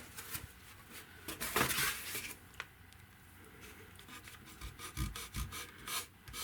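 A wet fingertip rubs gently across a sheet of Depron foam during a model plane build, giving soft, quiet squeaky scuffing strokes that come and go without any talk over them.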